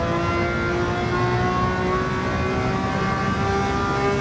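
A steady, loud race car engine in Gran Turismo 7 drones continuously at high revs, a buzzy, constant whine with no talking.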